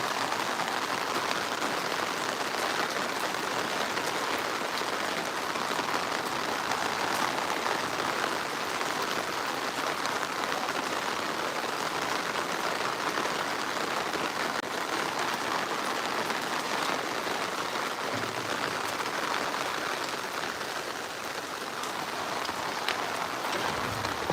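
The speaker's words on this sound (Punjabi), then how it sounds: "ਇੰਨਾ ਮੀਂਹ ਪੈ ਰਿਹਾ" Heavy rain pours steadily onto a house roof during a downpour, a dense, even hiss that holds at a constant loud level throughout with no voices.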